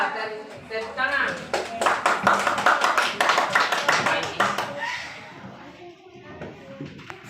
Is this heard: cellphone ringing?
no